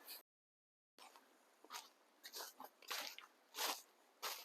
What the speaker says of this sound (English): lots of leaves and crunchiness, which I love